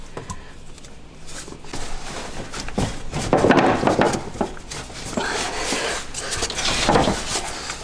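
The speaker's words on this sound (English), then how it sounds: "So I'm going to slide that hose down in between the clamp and the throttle body." Rubber charge tube hose being worked and slid onto the throttle body of a Polaris RZR Turbo, giving close, repeated scraping and rubbing sounds in uneven strokes with no talking.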